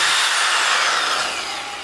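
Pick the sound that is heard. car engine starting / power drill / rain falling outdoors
power drill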